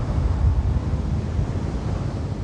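A spacecraft engine in The Invincible fires for vertical thrust, giving a steady, dense low roar with a rushing, wind-like hiss that holds evenly throughout.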